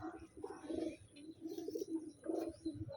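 Taiwan pigeons coo softly nearby in a repeated rhythm of low, rolling calls with short pauses between them, against a quiet background.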